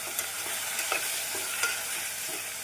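Vegetables, including eggplant, sauté with tomatoes in a hot pan for sambar, sizzling and crackling steadily, with a few scraping stirs of a utensil cutting through the constant frying noise.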